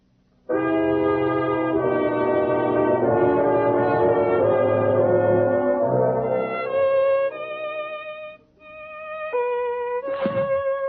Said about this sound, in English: Oh, Holmes, will you put down that violin for a moment and pay attention?